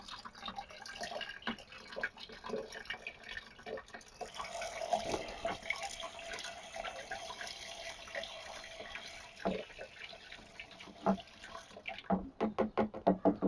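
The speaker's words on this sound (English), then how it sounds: "I'm going to grab the hose here, and then I am going to rinse out the cup so we're not wasting any product" A garden hose spraying water to rinse out a measuring cup for liquid lawn food, faint irregular splashing and trickling with uneven surges that grow choppier near the end.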